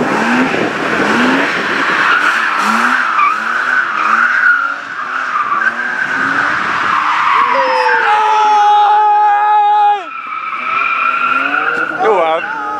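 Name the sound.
BMW car racing in hill climb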